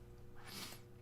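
One short, quiet sneeze bursts out over a low hum, a single sharp exhale.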